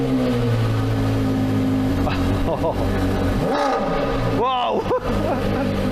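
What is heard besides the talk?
Porsche Carrera GT naturally aspirated V10 engine cold start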